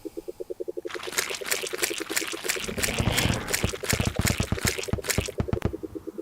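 Duke Fishron's Cthulhunado attack in Terraria: a loud swirling watery rush with crackling, splashy bursts that swells over several seconds above steady pulsing game music.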